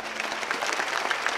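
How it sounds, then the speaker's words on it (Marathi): The crowd at a village kirtan breaks into a short burst of lively applause, with many hands clapping close and loud. "त्यांच्यासाठी टाळी वाजवा."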